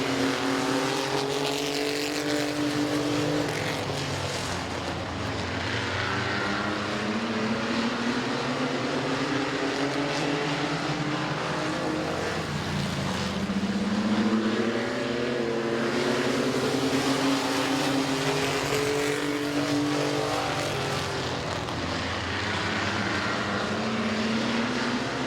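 Race cars circling the oval at Midvale Speedway, a steady loud roar of several engines with rising and falling pitch as cars run side by side and pass through lap traffic, continuous throughout.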